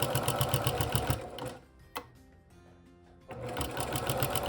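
A sewing machine stitches quilted fabric for a car seat poncho, running in two steady, rapid bursts of even stitching with a quiet pause between them; no voices.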